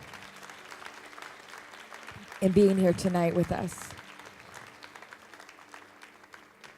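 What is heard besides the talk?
applause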